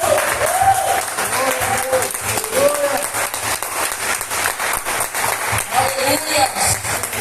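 A church congregation claps loudly and continuously, dense applause filling the room while voices call out over it.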